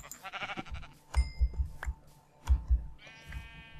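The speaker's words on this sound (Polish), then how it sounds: "O, słodki różowy baranek." Pink sheep in Minecraft give several short, wavering bleats one after another, then a longer bleat near the end, with faint game background sounds between them.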